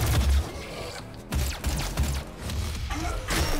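Pistol shots fired in the video game DOOM crack out in a quick run of loud, punchy bursts among thuds and game noise, with a few brief pauses between volleys.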